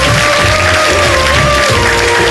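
A TV studio audience claps hard and continuously at a live iftar show, a dense loud wash of applause with a faint voice underneath.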